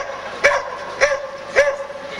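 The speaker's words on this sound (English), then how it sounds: "those are search dogs, folks, too" Search dogs at a dog derby barking three times in a steady rhythm, each a short, loud, pitched bark with a slight howling tone, close by against a quiet background.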